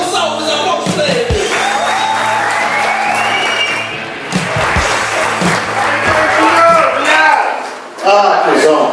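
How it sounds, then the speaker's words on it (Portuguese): Stand-up comedy audience applauding a comedian, sustained clapping and crowd noise at full strength with brief cheers, dipping slightly midway then swelling again near the end. "muitos aplausos pra ele"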